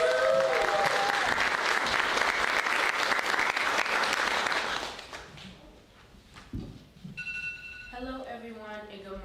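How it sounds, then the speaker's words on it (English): An audience at a school Law Day talk claps loudly for about five seconds, then the clapping fades into room noise, a thump and a short electronic chime sequence. "So let's give her a round of applause."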